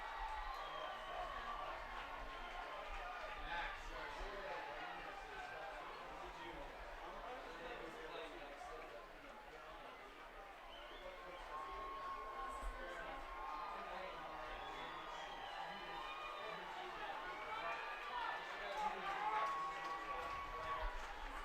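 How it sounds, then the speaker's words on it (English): Baseball crowd at a high school semifinal game, Mount Vista fans against Cherry Creek, a steady distant roar of cheering and chatter with scattered whistles and shouts throughout, faint but continuous. "Mount Vista crowd starting to cheer him on."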